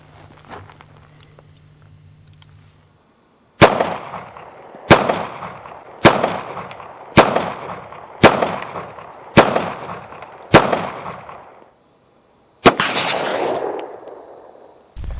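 Pistol shots fired at a target on a range, eight loud sharp reports in a steady rhythm about one second apart, then a longer blast near the end, each close and ringing briefly.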